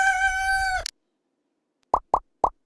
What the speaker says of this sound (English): We hear that poor chicken clucking.